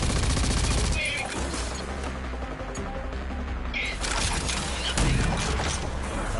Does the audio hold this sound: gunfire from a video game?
yes